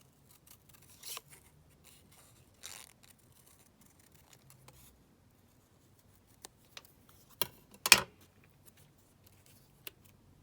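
Scissors cut out a paper craft piece in sparse, quiet snips scattered across the stretch, with a louder sharp snip or two near the end and soft handling sounds between.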